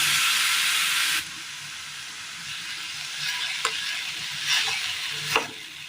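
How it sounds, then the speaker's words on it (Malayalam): Grated carrot sizzles in a hot pan with a steady frying hiss, loud at first and then softer, broken by a few sharp stirring scrapes. "ഇതിലേക്ക് നമുക്ക് ഈ അരച്ച് കൊണ്ടുവന്ന് ക്യാരറ്റ് ഇട്ട് കൊടുക്കാം"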